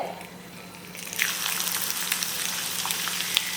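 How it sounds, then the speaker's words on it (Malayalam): Fenugreek seeds hitting hot oil set off a sudden rise into a bright, steady crackling sizzle after a quieter first second, close and continuous, with no talking. "എണ്ണ ചൂടാവുമ്പോൾ ഇതിലേക്ക് ഉലുവ ചേർക്കാം"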